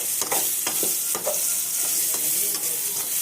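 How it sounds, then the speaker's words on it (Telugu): Egg with garlic and chilli frying in a pan, a loud, close, dense sizzle punctuated by several sharp stirring scrapes and knocks of a spatula at irregular intervals. "అందుకని గుడ్డు ఎల్లుల్లిపాయ కారం వండుతున్నానండి."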